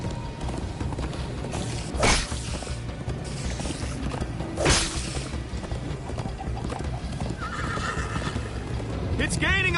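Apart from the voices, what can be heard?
horse galloping and neighing in video game Minecraft Story Mode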